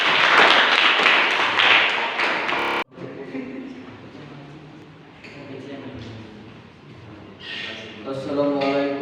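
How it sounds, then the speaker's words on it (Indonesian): A classroom audience at a university claps for a presenting group: a short burst of loud, dense clapping for about three seconds, then a cut to a person speaking alone. "kita beri tepuk tangan untuk kelompok 1 lebih dahulu"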